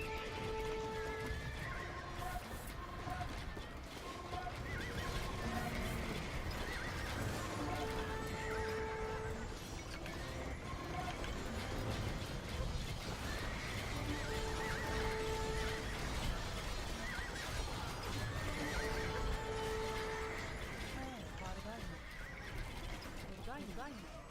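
Cavalry archers' horses in a strategy video game neigh again and again, with sharp whinnies repeating every few seconds over a busy bed of hoofbeats and battle noise.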